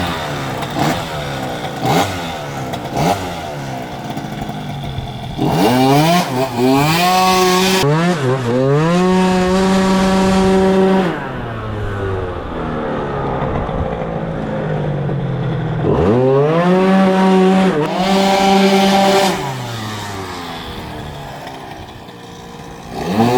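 Tuned scooter engine with a new exhaust revving hard in repeated bursts, climbing to a buzzing rev limiter and bouncing there before dropping back to a rough idle, loud and close, with no talk.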